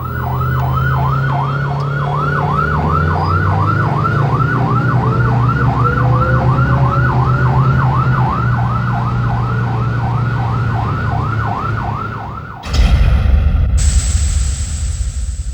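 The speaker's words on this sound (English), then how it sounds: "The Siren is the more American-style warbler" An airport fire engine's rapid American-style warbling siren cycles steadily and loudly over a low engine rumble, then cuts off abruptly, followed by a high electronic tone.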